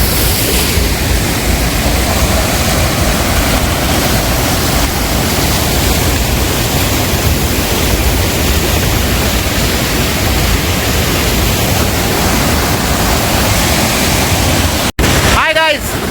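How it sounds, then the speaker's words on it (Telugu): Madhavaram waterfall roars as a continuous, loud, dense rush of falling water close by, with a brief sharp interruption near the end. "చూడండి మాధవరం వాటర్ ఫాల్స్. నిజంగా వాటర్ చాలా బాగా వస్తుందన్నమాట."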